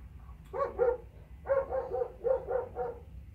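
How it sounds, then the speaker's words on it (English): Several dogs barking outside, heard from indoors at moderate distance: a pair of barks, a pause, then a run of about six quick barks in uneven rhythm, with no talking over them. "Excuse the dogs barking outside."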